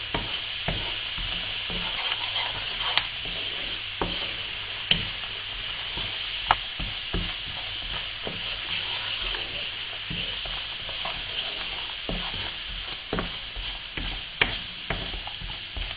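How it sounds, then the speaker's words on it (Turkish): Almonds tumble and scrape in thickening sugar syrup in a pan as they are stirred continuously, giving a steady soft sizzle broken by irregular clicks and knocks of the nuts, with no talk. "Karıştırmaya devam."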